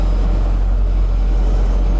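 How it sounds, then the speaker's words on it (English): Road traffic rumbles as a car slowly pulls away, a constant, loud low drone of engines and road noise with no voices. "I know that car's taking its time getting itself moving,"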